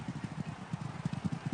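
Racehorse galloping in a race at Kempton, a steady rhythmic run of close hoofbeats drumming on turf throughout, fairly quiet and with no talk over it.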